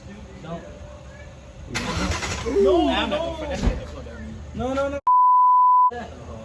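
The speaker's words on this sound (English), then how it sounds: "turn the car on" A BMW E90 car engine cranks and catches, idling roughly under people talking, followed by a long steady electronic beep.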